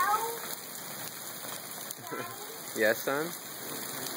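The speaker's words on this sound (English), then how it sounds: "Hail is completely different than snow. It's ice." Hail falls on a roof during a storm, a dense steady pattering rattle throughout, while people talk briefly over it.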